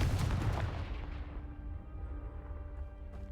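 A Confringo fire spell blasts in Hogwarts Legacy, opening with a loud, booming burst that fades into a low rumbling decay with lingering crackle.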